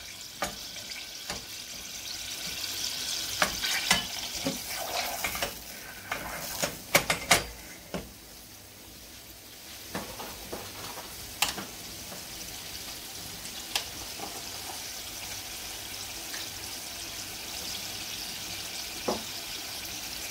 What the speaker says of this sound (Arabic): je vais tout d'abord faire fondre 2 cuillères à soupe de beurre